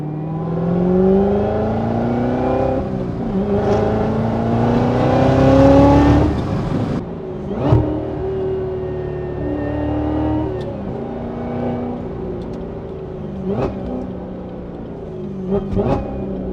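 Supercharged Corvette C7 Z06 V8 engine, loud and close, rising through revs with supercharger whine, then blipping sharply through several downshifts with throttle pops and gaps of lower idle between them.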